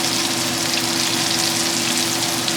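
Scallops pan-searing in a hot pan, a steady, dense sizzle and crackle running loud and unbroken throughout with no voices.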